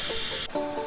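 A small torch flame hisses steadily and close up while a brake line is removed from a 1955 Ford, a continuous airy spray with a slight shift in tone partway through.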